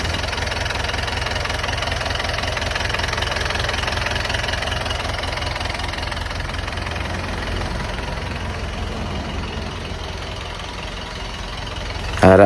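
An Isuzu Elf 4BE1 inline diesel engine in running condition idles steadily up close, a continuous low knocking clatter with even rhythm throughout, ending in a brief louder bump.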